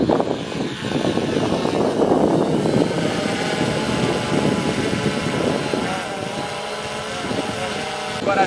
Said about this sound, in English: Got our drone in the air for the first time.